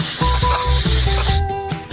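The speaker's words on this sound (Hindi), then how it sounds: "हम नाइट्रोजन को सीधे गर्म कैरमेल पर स्प्रे करेंगे।" Liquid nitrogen at about -195 degrees sprayed straight onto hot caramel, a loud continuous spray hiss with sizzling and bursts that pulse through the two seconds, close and steady with no talk.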